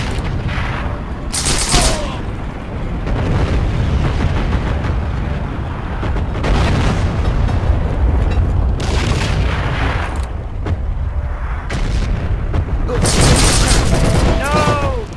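Gunfire and explosions from the video game Heroes and Generals: repeated loud booms and rattling bursts of shots come in irregular clusters, with sharp blasts standing out over a constant battle din.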